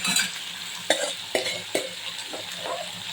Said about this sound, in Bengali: সেদ্ধ করা লাউ গুলো দিয়ে একটু রেখে তারপরে অল্প একটু ডাল দিয়ে বাগার দিই